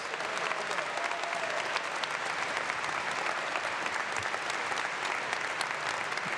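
Dense, steady applause from a large audience at a university convocation ceremony, cheering on agricultural college graduates; loud, continuous clapping fills the hall without a break.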